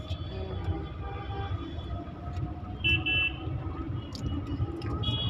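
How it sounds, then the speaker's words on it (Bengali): A Delhi metro train rumbles past overhead on an elevated track, a steady low roar under road traffic noise with brief high squeals from the rails. "আমি বলছি জানি এই উপরে সুপরে মেট্রো যাচ্ছে"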